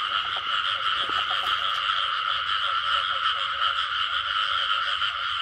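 A dense chorus of frogs croaks at night during the mating season, a steady, loud, continuous rasping drone with no pauses throughout.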